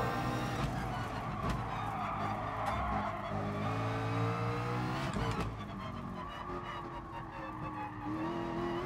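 A race car in the GT Sport video game brakes late, its tires squealing and skidding over a steady engine drone, with the whine rising toward the end.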